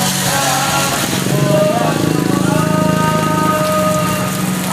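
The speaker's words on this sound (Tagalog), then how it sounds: "malakas ang ulan." Steady heavy rain pours down on a road with a constant hiss, while an engine drones nearby and faint voices can be heard under it.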